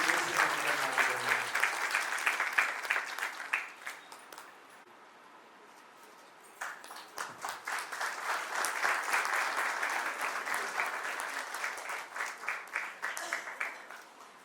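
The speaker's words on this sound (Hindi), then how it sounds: "ताली बजा सकते हैं" Audience applause at a Christian wedding ceremony: a dense burst of clapping from a gathered crowd, a short lull, then a second sustained round that fades near the end.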